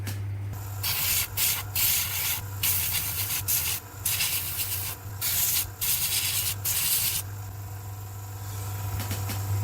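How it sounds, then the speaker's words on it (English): An airbrush lays a thin dust-effect layer through a template onto a model Challenger tank's skirt armor, giving bursts of hissing spray that start and stop repeatedly over a steady low compressor hum. "add another layer, a very thin layer of dust effect, but this time using an airbrush"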